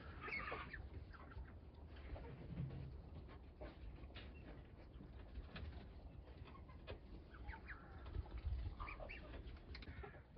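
Ducks chatter and call around a farmyard, short clucks and squawks overlapping at moderate distance with a low rumble underneath.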